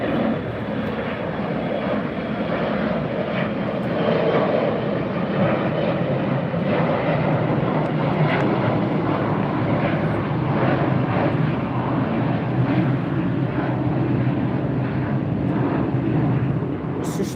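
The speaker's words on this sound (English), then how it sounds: "There goes the Alaska Special Livery" An Alaska Airlines jet in a special sustainable livery passes at LAX at night, a sustained loud jet roar that stays even and continuous throughout.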